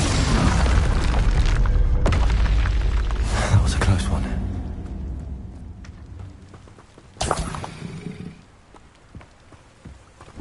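Confringo spells burst in Hogwarts Legacy, a heavy booming blast with a rumbling tail that decays, then a second sharp impact, set against spoken voice and game noise.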